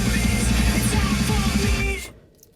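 Rock music plays loudly through the stereo inside a 2024 Ford F150 XLT cabin, with punchy drums and bass and distorted guitars pumping for about two seconds before cutting off to near silence.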